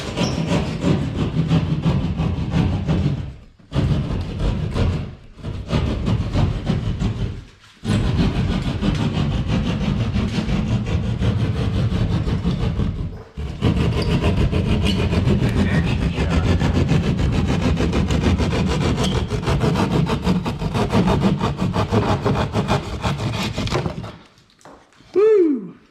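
A hand drywall saw cuts through a sheetrock ceiling along a template, making close, steady rasping strokes that run continuously with a few brief pauses.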